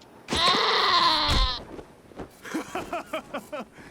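Goat in the video game Wasteland 2 letting out one loud, drawn-out bleat, followed by a short burst of quieter rhythmic sounds.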